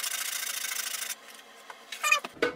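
Steady, close rasping as a small wooden model kit part is sanded, then the rubbing breaks off into a few short scrapes and handling sounds.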